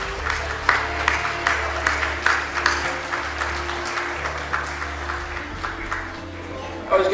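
An audience applauds the teachers at a youth peace art exhibition, steady sustained clapping from a crowd with a few louder bursts, filling the room without speech.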